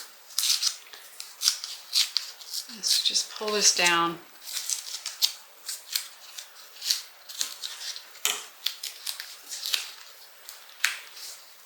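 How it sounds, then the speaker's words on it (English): Scissors snip through leather with an adhesive lining in a series of crisp, rhythmic cuts, close and fairly loud, with someone briefly talking partway through. "And you can actually cut this a little bit below."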